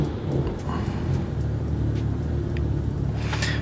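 BMW M2 with a bootmod3 stage 2 tune firing up for the first time, a short low rumble settling into a steady idle, close by, with a few faint clicks over it.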